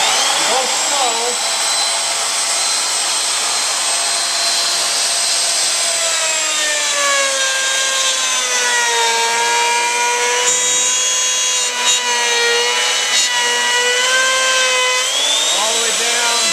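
A power tool cuts a groove into wood while building a storage chest, giving a steady, loud whine that shifts in pitch as the cut proceeds, running continuously from start to finish.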